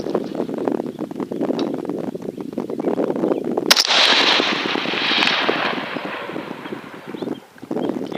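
Rifle fire at an outdoor shooting range: a sharp, loud report cracks out midway and is followed by a broad, noisy wash that slowly fades over steady background noise.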